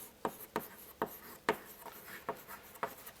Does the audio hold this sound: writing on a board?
yes